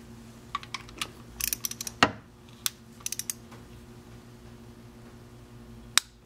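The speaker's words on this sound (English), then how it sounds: "here's how a torque wrench works, Mrs. Heavy Chevy." Torque wrench giving sharp, isolated clicks, several scattered taps and one louder snap in a quiet room, close by.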